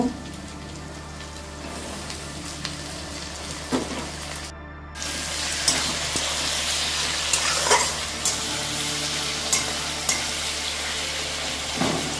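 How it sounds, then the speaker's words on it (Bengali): Garlic and tomatoes fry with onion and ginger in a pan, giving a steady low sizzle with occasional clinks and scrapes of stirring and a brief gap midway. "রসুন, টমেটো এগুলো একসঙ্গে কষিয়ে নেব।"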